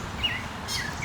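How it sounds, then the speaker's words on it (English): Small bird chirping at camp, a few faint high tweets spread across a quiet, low background hum. "But Bird is mocking me."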